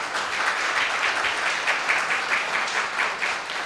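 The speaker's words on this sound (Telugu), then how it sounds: "ఒక్కసారి ఈ బైబిల్ మనకిచ్చినటువంటి దాతలకు అందరికీ కూడా గట్టిగా చప్పట్లు కొడదాం" An audience claps for donors at a free Bible distribution event, a steady dense wash of applause that holds evenly for several seconds with no talk over it.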